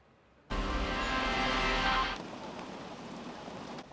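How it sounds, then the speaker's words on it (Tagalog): Heavy rain pours down in a steady, dense roar, starting abruptly and then easing to a softer constant hiss toward the end. "Kahit malakas ang buhos ng ulan"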